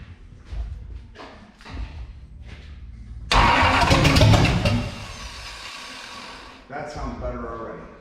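An old Toyota Land Cruiser cranks over with loud, ragged churning for a second or two, followed by a rough mid-pitched engine rumble. Someone speaks briefly before the cranking.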